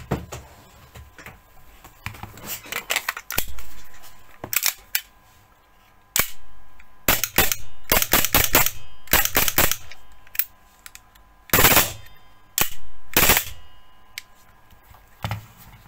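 Tokyo Marui Glock airsoft gas pistol firing with a second magazine: irregular sharp snapping shots, some single and some in quick clusters of two or three, close and loud, separated by brief pauses and faint mechanical handling clicks.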